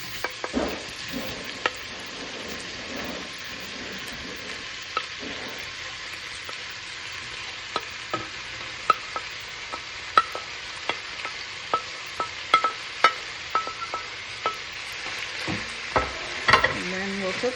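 Diced vegetables for New Orleans-style jambalaya sizzle steadily in a hot pot while a spoon stirs and scrapes, with frequent clicks and knocks that grow more prominent toward the end.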